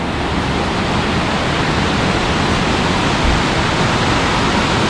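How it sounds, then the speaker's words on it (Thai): Strongly flowing water at Khlong Lan waterfall roars as a loud, steady, dense rush that continues without a break, with no voices over it. "เป็นน้ำที่ไหลมาจากตัวน้ำตกค่ะ น้ำไหลแรงมาก"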